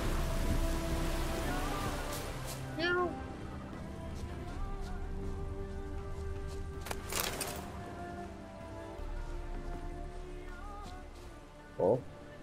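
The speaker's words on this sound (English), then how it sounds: "A storm, damn it." Steady rain pours throughout a storm in the video game The Witcher 3, a continuous hiss with a few louder gusts and short sharp game sound effects mixed in, no voices over it.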